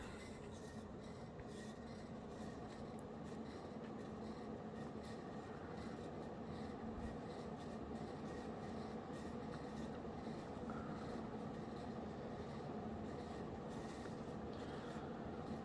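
A Casablanca Zephyr 52-inch ceiling fan with a K63 motor, 14-degree blade pitch and worn bearings runs on high speed at about 200 RPM, a steady low rumbling whir with a faint rubbing hum, quiet and unbroken.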